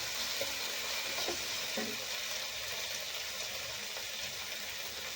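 Vegetables and tomatoes for pasta sautéing in a pan, producing a steady, even sizzle with a few soft stirring taps, close and moderately loud throughout.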